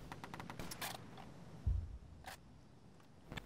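Gunfire rattles in the shooter game Insurgency, with quick bursts of automatic fire and a few single shots at a moderate distance, fairly faint and spread over a quiet background.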